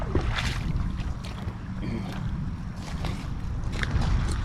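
Wind gusts outdoors near a base camp while hunting for antique bottles, a steady low rumble of microphone buffeting that continues throughout with no one talking.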